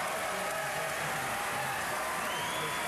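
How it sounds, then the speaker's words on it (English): Basketball home crowd at Richland giving a player a big standing ovation as he heads to the bench, a steady wash of applause and cheering filling the gym throughout. "getting a big ovation from the crowd"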